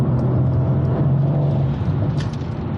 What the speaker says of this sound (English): Oh man, but this car pulls so good.